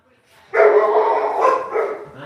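Dogs bark continuously and loudly at close range in a short burst of overlapping barks and yips, filling the moment without a pause.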